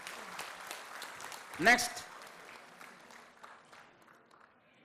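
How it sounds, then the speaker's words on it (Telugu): A crowd claps at a bonus cheque distribution ceremony for Singareni workers. The applause is moderate and scattered beneath an announcer's amplified voice, with one brief louder burst. "అందరూ ఒకసారి గట్టిగా క్లాప్స్ కొట్టాలి"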